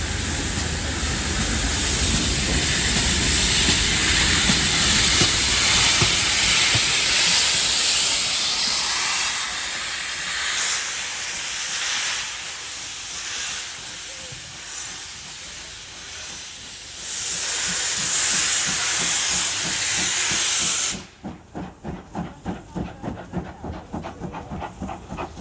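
Steam locomotive Pitchford Hall passing on the Epping Ongar Railway, a loud sustained hiss of steam with rumbling wheels and carriages rolling by close up, fading off before a rhythmic chuffing takes over at the end.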